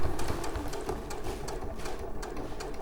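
A sewing machine stitching a quilt block seam in a fabric shop, a close, steady, rapid mechanical whirring and clatter running continuously, with no talking.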